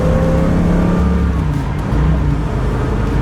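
A 1965 Mustang Fastback's 289 V8 pulls through a corner, a loud close engine growl with shifting revs and road noise, no voices.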